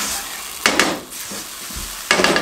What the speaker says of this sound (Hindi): इस तरीके से अंडों को तोड़ेंगे सॉस के अंदर और इस तरीके से इनको मिक्स कर देंगे